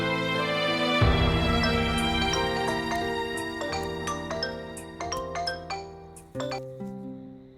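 A phone ringtone plays a chiming melody of bright, ringing tones that repeat and ring on unanswered, loud and close, with no one speaking.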